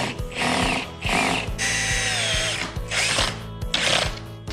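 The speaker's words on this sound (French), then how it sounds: "On fait nos 3 points, on fait nos 3 trous, nos 3 vis" A power drill driving screws into wood while a coffee table is turned into a cradle; several loud, close whirring bursts of a few seconds each, with short pauses between them.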